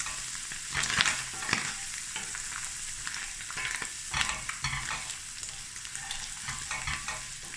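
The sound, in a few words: frying Vienna sausages and egg in a pan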